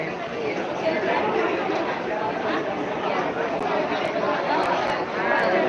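Pilgrims packed around Trimbakeshwar temple fill the air with continuous overlapping chatter, a loud, close crowd murmur with a few faint, sharp clicks near the end.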